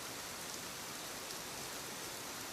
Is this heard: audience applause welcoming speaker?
no